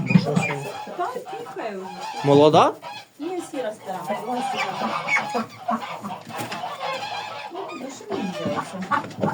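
Hens clucking in a farmyard coop during an evening egg collection, several birds clucking close by in irregular bursts while people talk over them.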